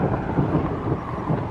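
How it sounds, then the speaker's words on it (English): Thunder rolls outdoors beside a sculpture of horses and burros, a steady, broad rumble that stays loud and unbroken throughout. "Whew, thunder."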